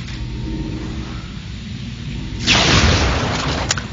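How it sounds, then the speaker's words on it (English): A laser weapon fires in an XCOM: Enemy Unknown game, a sudden loud booming blast that cuts into a quieter low hum and then rumbles on, with no voices. "you get to see a little video of the researcher testing the new weapon."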